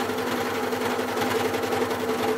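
An overlock sewing machine stitches fabric in a steady, fast mechanical whir with a rapid rhythmic chatter, close and continuous without pauses.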